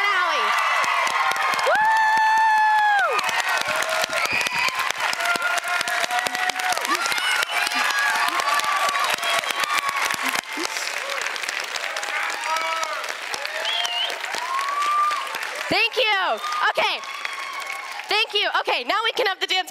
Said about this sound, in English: Can we have a huge standing ovation, round of applause for the directors, Tennille, Janae, Stevie, Chandler, and Alli